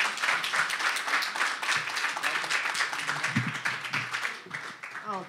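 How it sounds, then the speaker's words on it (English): An audience claps to welcome the next speaker at a 518 Talks event, a continuous dense patter of hands with faint voices underneath. "Let's give him a big round of applause and welcome him up."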